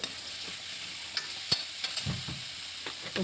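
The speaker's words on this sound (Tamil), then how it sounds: "அப்புறம் கத்திரிக்காயை போட்டு அதுவும் நல்லா அதில் வணக்கணுங்க" Soft sizzling of eggplant sautéing in a pan with spices for a tamarind curry, with occasional stirring scrapes and clinks, close and fairly quiet, with no voices.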